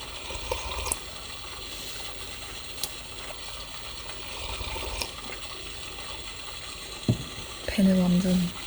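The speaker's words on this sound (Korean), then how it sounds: "여기가 아주 작은 폭포지만 이 물소리가 비 내리는 소리 같기도 하고" Water pours steadily over a small waterfall at a winter campsite, making a continuous rushing hiss like rainfall. A short tonal sound rises above it near the end.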